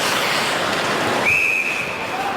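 A referee's whistle cuts through steady arena crowd roar at an NHL ice hockey game between the Los Angeles Kings and Edmonton Oilers: one sustained shrill blast, followed by a brief fainter second tone.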